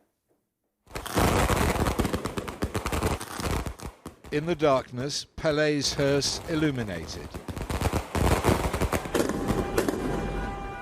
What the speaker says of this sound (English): Fireworks to celebrate a great life and to mark his homecoming.